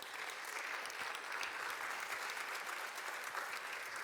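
Audience at a corporate diversity and sustainability colloquium claps for Chantal Lechenadec of IBM, sustained, even applause from a large room, continuous and fairly full throughout, with no talking heard.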